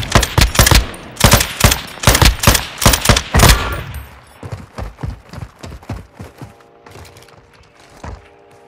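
Mid-caliber automatic gunfire in Call of Duty: Modern Warfare II, loud rapid bursts of close shots for about four seconds, then quieter scattered shots and clattering farther off.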